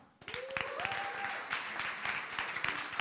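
Audience clapping at a coding bootcamp demo day in Berlin, starting abruptly and continuing as a scattered, fairly close patter of hands, with a brief rising whoop over it early on.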